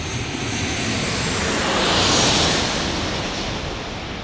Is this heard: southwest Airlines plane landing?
yes